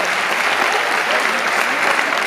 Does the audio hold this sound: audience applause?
yes